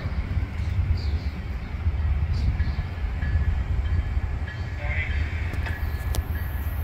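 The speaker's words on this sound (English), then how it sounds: "Train approaching. Please remain behind yellow line." A commuter train arrives at Readville station with a loud, steady rumble of rail wheels and a rising metallic screech near the end. Faint announcement tones sound over the noise.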